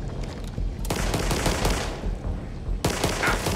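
Gunfire in the co-op shooter Back 4 Blood: loud, continuous rapid shots throughout, dense overlapping bursts with a brief gap and then a fresh volley near the end.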